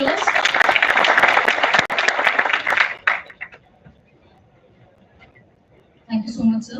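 An audience at a college induction ceremony claps loudly for about three seconds before fading into quiet room tone, then someone speaks into a microphone.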